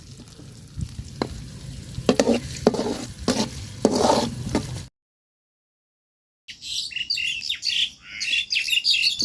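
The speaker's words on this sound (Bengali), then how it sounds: "পেঁয়াজটা লাল লাল করে ভাজা নিচ্ছি" Chopped onions frying in oil for a curry, crackling sizzle with sharp stirring scrapes close by, birds chirping in the background; a brief silent gap, then more sizzling and bird calls.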